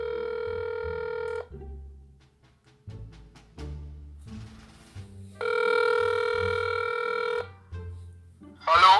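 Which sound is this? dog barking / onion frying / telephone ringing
telephone ringing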